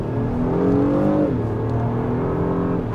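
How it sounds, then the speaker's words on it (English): A 2025 Acura MDX Type S accelerating in normal mode, its engine note climbing steadily in pitch over a few seconds, loud and continuous with no talking. "We are taking a step out here on the gas."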